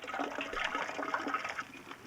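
Water splashes and gushes steadily as it is drawn from a passing army truck at a refugee camp, a continuous rushing flow heard faintly and from a distance with no voices.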